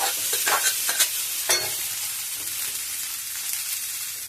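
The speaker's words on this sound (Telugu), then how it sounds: "ఇప్పుడు మనం వండుకున్న రైస్ని యాడ్ చేసేసుకోవాలి" Cooked rice tumbles into a frying pan for capsicum rice and is stirred, with several quick scraping strokes and soft sizzling up front, then a steady light hiss, close and without talk.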